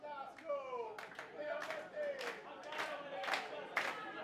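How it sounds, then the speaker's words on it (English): Crowd at a pro wrestling show in a Rome venue cheers and claps in steady bursts, with voices and shouts rising over the applause throughout. "You can hear this Roman crowd picking up firmly behind Adriano"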